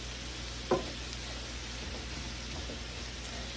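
Cabbage frying in a pan gives a steady, moderate sizzle, with a single soft clank of stirring early on and a faint tap near the end.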